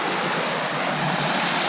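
Stream water rushes at a snowy trail crossing in a wilderness range, a loud, steady broadband wash close by with no breaks, mixed with some wind noise.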